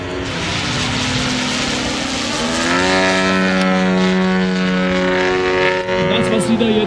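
Two Extra 330 SC model aerobatic planes flying in synchronized display at a model aircraft meet, their engines droning loud and continuous with pitch rising and falling as they maneuver, while a commentator talks over them.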